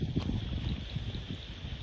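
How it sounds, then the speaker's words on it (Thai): Steady wind blows outdoors at night in a forest planted with large eucalyptus trees, a continuous low rushing with some gusty buffeting on the microphone and no voices. "เสียงลม"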